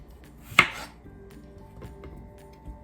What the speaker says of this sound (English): Let's get this cut up. You want it diced.